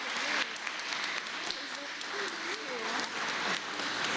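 Steady clapping from a church congregation during a Baptist service fills the clip, with a voice speaking over the applause throughout.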